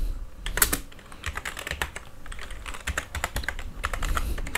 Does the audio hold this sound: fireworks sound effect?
no